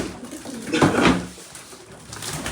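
Pigeons cooing in a loft, with a couple of soft, throaty coos rising in the middle over low background noise, fairly close.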